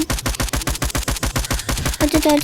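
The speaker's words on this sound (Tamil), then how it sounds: "கன் சவுண்டு வந்து நிறையா இருக்கிறதுனால." Rapid automatic gunfire in the Roblox game "All of Us Are Dead", a fast regular burst of loud close shots, followed at the end by a brief tonal game sound.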